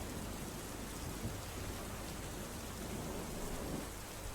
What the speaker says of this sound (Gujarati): સામાન્ય વરસાદમાં જ રોડ રસ્તા પર પાણી ફરી વળ્યા છે